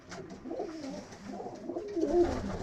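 Pigeons coo in soft, rolling low calls that repeat over a faint background, moderately close and alone without talk.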